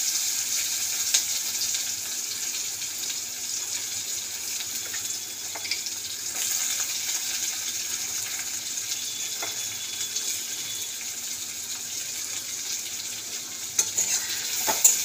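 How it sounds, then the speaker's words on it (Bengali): Onion fries in leftover oil with black cumin seeds in a pan, giving a steady, close sizzle that runs unbroken with no talking. "তো একটু ভাজা হোক পেঁয়াজটা কালো জিরের সাথে।"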